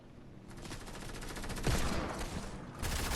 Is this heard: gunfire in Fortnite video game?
yes